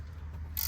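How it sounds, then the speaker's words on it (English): A wrench turning a nut on a car strut stud gives a brief, close mechanical ratcheting rasp that ends in a sharper burst of metallic clicking, over a low steady hum. "You can put a regular wrench on there, but see how it turns now?"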